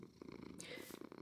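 A cat purrs in the Minecraft video game, a soft steady rumble heard faintly over a short stretch with light background game sounds.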